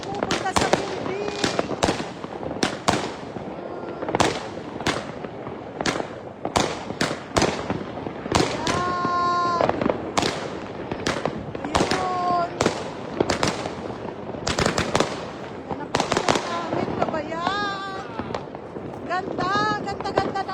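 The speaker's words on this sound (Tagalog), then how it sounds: "Ayan ang paputok namin." Sharp firework and firecracker bangs pop irregularly throughout New Year's celebrations outside a store in the Netherlands, some close and loud, others distant, while people talk and exclaim.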